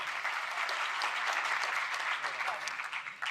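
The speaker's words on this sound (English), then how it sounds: "Big applause to the MEPs." Applause from the audience at the European Congress of Young Farmers, a steady wash of many hands clapping in a large hall, moderately distant and even in level from start to finish.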